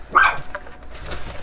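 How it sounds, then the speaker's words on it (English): A neighbor's dog lets out one short bark at a distance, then faint yips follow. The sounds come through outdoors near a DIY plastic greenhouse. "Don't mind me, that's just a neighbor's dog."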